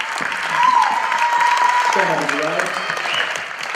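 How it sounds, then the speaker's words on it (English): An audience gives a round of applause honoring Mr. Wilbur Rollins at a Music Choice event at Landry Walker, steady clapping sustained throughout while a tone and a voice ring over the crowd. "I'd like to give him a big round of applause"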